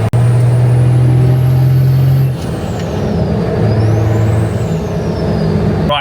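A Nissan Patrol pulls onto a highway and drives at speed, a loud steady engine and road roar with a strong low drone that drops after a couple of seconds, and a whining tone that rises and falls. Recorded close, with no voices.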